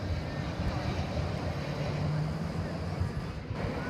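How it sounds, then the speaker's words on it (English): A Spirit Airlines jet arriving at Dallas/Fort Worth airport produces a continuous, fairly loud low engine rumble with a broad roar that holds steady for several seconds, without clear speech. "So you hear the Spirit flight coming in."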